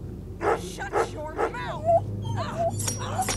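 In the video game Remothered: Broken Porcelain, a dog gives a series of short whimpers and yips that rise and fall in pitch, spaced a little apart, over a low hum, with a person talking at times.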